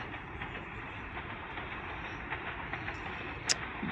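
The 8 Down Tezgam express rolls into Sohawa station as a steady, broad rumble of rail noise, with faint clacks and a brief sharp squeal near the end. No voices are heard.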